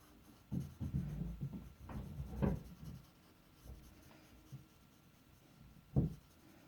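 Pencil shading across paper with a soft grip while drawing a nose, heard as close, gentle scratchy rubbing strokes in uneven bursts, with a few firmer strokes and quiet pauses between.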